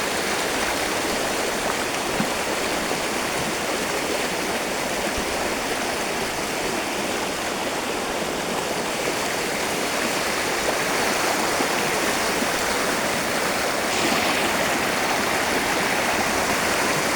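River water rushes steadily near a waterfall, a loud continuous broadband roar and splash that stays even for the whole stretch with no voices.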